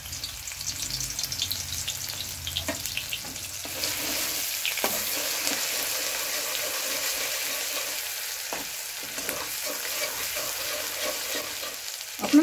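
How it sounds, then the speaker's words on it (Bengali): Garlic fries in hot oil with a steady, dense sizzle that holds throughout, joined by occasional scrapes and stirring knocks from a utensil. "তেলটা গরম হয়ে গেছে, রসুনটা আগে দিয়ে নিলাম।"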